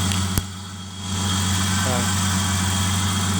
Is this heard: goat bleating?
no